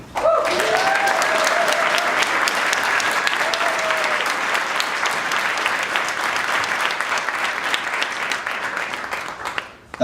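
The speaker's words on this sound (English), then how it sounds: "let's give a round of applause in his honor" Audience applause at a cannabis-and-beer social gathering: sustained, dense clapping from a sizable crowd that starts abruptly and holds steady for about ten seconds before cutting off, with brief voices and a whistle near the start.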